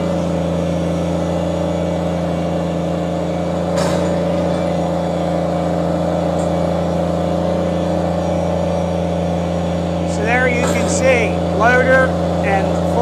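A 2012 Kubota BX2360 compact tractor with a loader, its small engine idling and running steadily with a strong low hum and overtones, slight revving near the end while someone talks over it.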